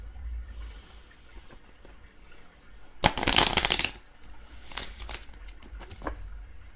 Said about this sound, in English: that was the ugliest shuffle. I'm going to shuffle one more time.